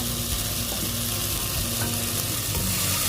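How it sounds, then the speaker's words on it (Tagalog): Ginger and onion sautéing in a hot pan for a sweet and sour sauce to go with lapu-lapu fish, a steady close, even sizzle with faint stirring scrapes, no voices. "Gigisahin lang po natin hanggang makuha po natin ang texture na nais natin para sa ating sweet and sour sauce."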